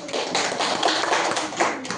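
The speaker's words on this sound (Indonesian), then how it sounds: "Tepuk tangan" Classroom applause after a group presentation, a dense, steady patter of many hands clapping throughout, close and fairly loud, with no talking over it.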